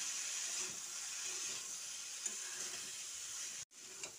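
Drumstick stems frying with salt, turmeric and chilli powder in a pan, a steady close sizzle and hiss with faint stirring scrapes, cut by a brief silence near the end before the sizzle resumes.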